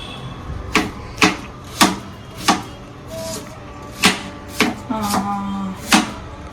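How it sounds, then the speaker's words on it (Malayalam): A knife chops tomato, green chilli, ginger and garlic on a board for Malabar chicken biryani. About nine crisp, evenly spaced strikes sound up close, with a quiet pause in the middle. "തക്കാളി, പച്ചമുളക്, ജിഞ്ചർ, ഗാർലിക്, ഇത്രയും സാധനങ്ങൾ നമുക്ക് കട്ട് ചെയ്തെടുക്കാം"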